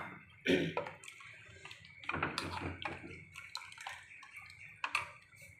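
Potato mashed into water is poured into a pot of fasting kadhi, giving near, splashy pouring sounds in a few short bursts with small drips in between.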